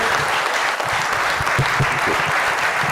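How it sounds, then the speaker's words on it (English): A lecture audience gives loud, sustained applause, a thick continuous patter of many hands clapping at close range with no voices over it. "let's give them a big round of applause"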